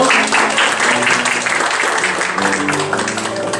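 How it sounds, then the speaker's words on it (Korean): Warm applause from a congregation at a Monday peace and reunification prayer meeting, dense steady clapping filling the room throughout with a few voices faintly mixed in. "박수 한번 쳐주십시오."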